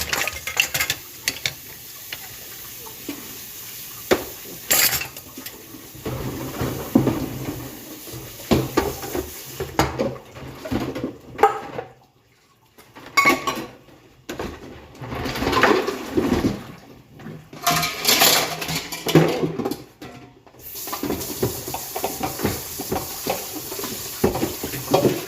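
Dishes, cutlery, pots and pans, including a large cooking pot, are washed by hand: close, continuous clatter and scraping with scattered sharp clinks and brief pauses, and no talking.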